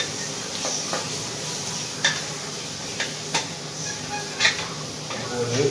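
Masala for a chicken biryani is stirred in a pot, with intermittent metallic clinks and scrapes of a spoon against the vessel over a soft background sizzle, while a voice speaks quietly.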